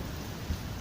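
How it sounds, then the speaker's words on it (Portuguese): Heavy rain falling at Sítio Ribeira in Santa Rita, heard as a steady, dense hiss with a low rumble underneath and one soft thud partway through. "É muita chuva."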